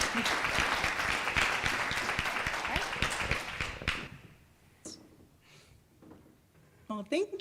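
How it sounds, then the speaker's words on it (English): An audience at a live-streamed talk gives a round of applause, dense close clapping that lasts about four seconds and then stops. A few short spoken words follow over the quiet room. "One more round of applause"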